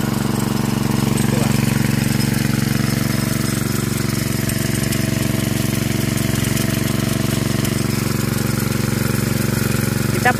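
Bamboo B-200 engine driving a Sanchin SCN 20 sprayer, a loud, steady, close droning rattle with a constant low throb that runs unbroken through the whole stretch.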